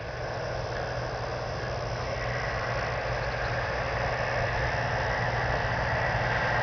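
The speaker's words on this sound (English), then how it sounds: "There's tractors and combines and things like that going by." Heavy farm machinery such as tractors and combines rumbles steadily past on a farm road near a clover yard, a continuous low engine drone with broadband noise holding throughout.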